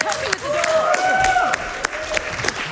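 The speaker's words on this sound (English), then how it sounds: "Let's get one more round of applause." A burst of clapping from a small crowd at a Summer Games Done Quick speedrun event, mixed with cheering voices and whoops over the applause.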